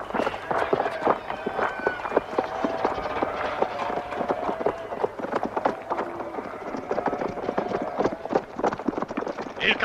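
Several horses gallop with rapid, overlapping hoofbeats, steady and fairly close, while voices shout over the pounding.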